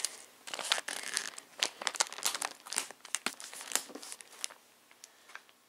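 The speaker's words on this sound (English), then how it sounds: "we need to put some more tape on here" Crinkly gift wrapping and sticky tape on a Christmas present being handled, with irregular close crackles, rustles and short tearing bursts spread over several seconds, fading toward the end, no talking.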